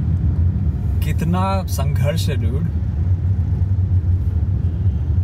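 Road traffic rumbles as a steady loud engine drone with passing vehicles, continuous throughout while someone speaks briefly over it.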